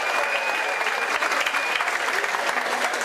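A crowd at a public gathering gives loud, sustained applause to welcome a speaker, with dense clapping throughout.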